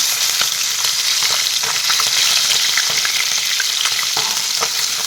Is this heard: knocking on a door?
no